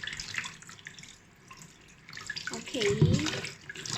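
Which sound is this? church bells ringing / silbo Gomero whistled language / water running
water running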